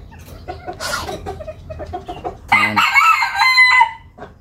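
A pet rooster named CuBin gives clucks and short calls, then lets out one loud, close crow lasting just over a second, with no talk.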